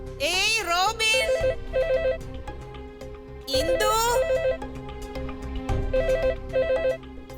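Telephone ringtone repeating in melodic bursts at moderate volume indoors, separated by gaps, while someone speaks briefly over it.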